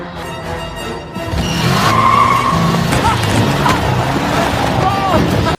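A car accelerates hard in a film scene, its engine roaring as tires squeal and skid loudly for several seconds over a mix of background noise.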